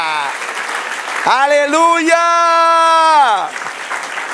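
A church congregation claps during a worship service, with bursts of applause at the start and end around a loud, drawn-out shouted exclamation from a single voice.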